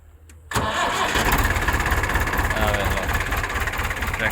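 A 2017 model tractor engine cranks and catches after a brief quiet moment, then settles into a steady, loud, rhythmic diesel idle close by, with someone talking over it.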